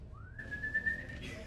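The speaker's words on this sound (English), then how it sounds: "Stop whistling in there!" A person whistles a single sustained, slightly rising tone from behind a wall in a Dungeons & Dragons game session, steady and fairly faint against low room noise.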